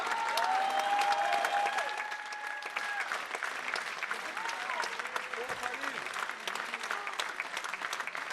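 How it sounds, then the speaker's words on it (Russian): Audience applause and ovation after a Tajik ballet performance in Paris: dense, steady clapping throughout, with faint tonal sounds and background music beneath. "Зрители встретили наше выступление с овациями"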